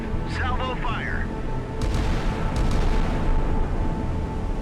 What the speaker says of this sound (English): The Pakistani ships open fire on the incoming intruder.